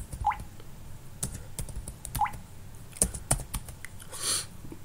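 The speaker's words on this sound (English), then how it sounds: "type Python 3 space CMSEEK dot py and hit enter" Sparse, quiet clicks of a computer keyboard as a command is typed, with irregular key taps and a couple of firmer strokes, heard close and alone with no talking.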